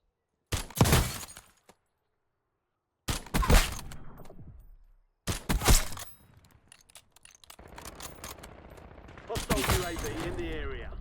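Several loud bursts of gunfire in the video game Warzone ring out in quick volleys, separated by short silences, followed by a lingering rumble and rattling debris.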